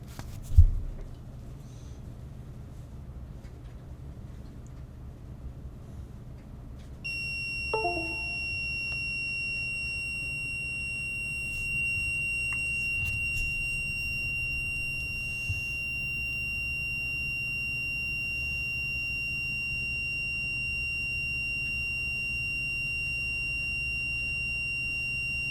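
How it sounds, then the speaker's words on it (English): A Siemens FC901 fire alarm panel emits a long, steady electronic beep while restarting during a firmware update, a sustained high tone that starts partway through and holds to the end over a low room hum. "So we'll get another long beep."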